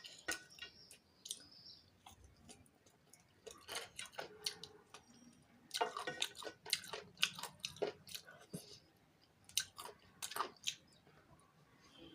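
Close, soft crunching and chewing of spicy chicken, with irregular bites and mouth sounds coming in clusters over a quiet room and no talking.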